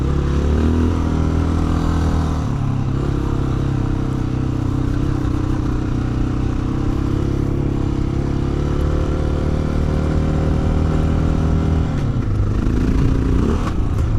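A 2025 Honda XR650L single-cylinder dual-sport motorcycle rides a dirt trail, its engine a loud, steady thumping drone close to the microphone with slight shifts in revs throughout.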